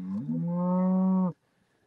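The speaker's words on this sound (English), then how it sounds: "That sound is the sound of a spoiled, rotten cow." A spoiled farm cow on a calf farm lets out a single loud, sustained moo lasting over a second, rising at the start and cutting off sharply, followed by near silence.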